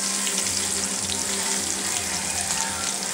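A sesame seed bun browning in butter in a pan, giving a steady close frying sizzle and crackle with no talking.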